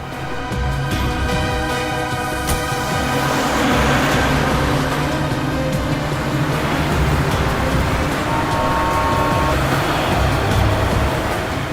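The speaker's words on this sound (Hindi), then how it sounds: "ए ड्राइवर, चलो चलो, गाड़ी चलाओ" A car engine hums steadily and loudly nearby as the vehicle drives, with continuous road noise throughout.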